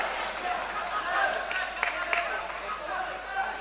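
A packed crowd at an MMA championship bout roars and cheers for an Uzbek fighter. The noise is a steady, far-off wash with a few sharper shouts, and a commentator talks over it.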